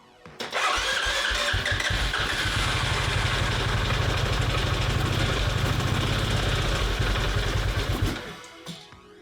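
A CFMoto Z6 EX motorcycle with low compression, sprayed with carb cleaner, cranks and catches, running roughly for several seconds at a loud close rumble before cutting out abruptly.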